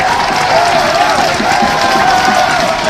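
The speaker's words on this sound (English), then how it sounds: "you could hear the claps coming from the supporters of Kutajombulu" Football supporters at a Nawettan semi-final match in Brikama clapping and cheering from the stands, a loud, continuous crowd roar with scattered claps blended into the din.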